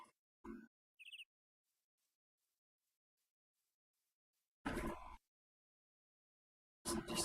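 A single short bird chirp from modded Minecraft, a bright warbling tone standing alone amid silence, bracketed by brief clicks and bursts of other game noise.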